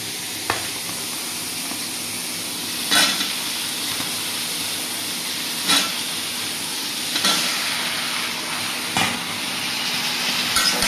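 Taro stems frying with dried fish in a hot pan, a steady loud sizzle with occasional stirring scrapes and bursts of hiss recurring every couple of seconds.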